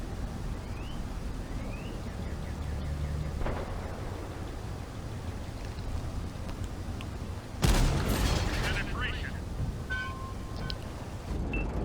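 Tank main gun in the video game World of Tanks fires a single loud boom partway through, cutting sharply over a low, steady engine rumble.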